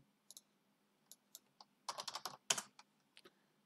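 Quiet, close keystrokes on a computer keyboard while entering a command: a few isolated taps, then a quick burst of typing and a final flurry of clicks.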